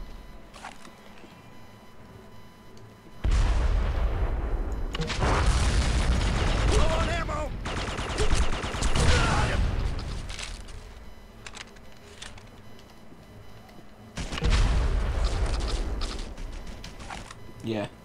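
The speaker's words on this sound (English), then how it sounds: "Yeah, it was a turret off the rover." A rover-mounted turret fires in the shooter Red Faction II, with loud bursts of heavy gunfire in several long stretches separated by quieter gaps, and a voice talking over parts of it.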